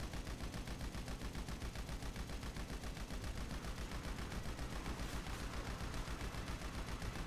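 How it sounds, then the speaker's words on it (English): Sustained automatic gunfire in GTA 5 Online, rapid even bursts hammering without a break for several seconds, fairly faint and distant in the mix. "Keep firing. Whoa. Keep shooting it, bro."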